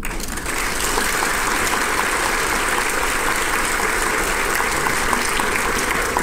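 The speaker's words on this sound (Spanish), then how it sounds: "yo personalmente quiero que le demos un fuerte aplauso" A film forum audience breaks into loud, sustained applause, a dense and even roar of many hands clapping that swells in and holds steady for several seconds.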